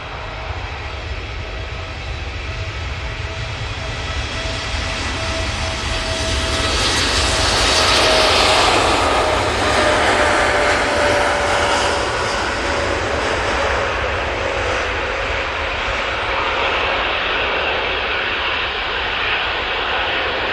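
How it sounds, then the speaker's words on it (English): A TUI Boeing Dreamliner jet takes off at Manchester, bound for Malaga: a long, rising jet-engine roar swells to a loud peak midway, then holds as a sustained, broad thrust rumble. "TUI Dreamliner now on 2-3 left"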